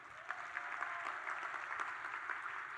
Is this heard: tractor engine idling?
no